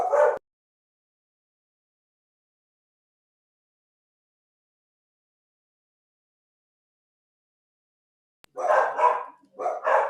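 Dogs bark in the background of a virtual seminar: one short burst at the start, then a long stretch of silence, then a cluster of several barks near the end.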